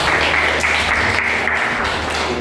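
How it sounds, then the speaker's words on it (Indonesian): Students in a high school Islamic religious education class applauding: a steady, dense wash of many hands clapping together, close and fairly loud, continuing without a break throughout. "Tepuk tangan untuk itu."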